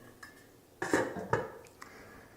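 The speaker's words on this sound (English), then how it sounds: "Put the lid back on." A lid being set back onto a container of Zinfandel juice, a few close clattering knocks and clinks in quick succession, fairly quiet, with no talk.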